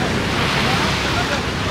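Heavy ocean swell breaking at Capbreton, a continuous loud roar of surf mixed with gusty wind buffeting the microphone, steady throughout with no pauses.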